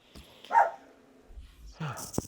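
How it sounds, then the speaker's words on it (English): A pet dog named Bella barks indoors, a few short, fairly close barks with quiet gaps between them, while someone speaks briefly. "Sorry, the dog's barking."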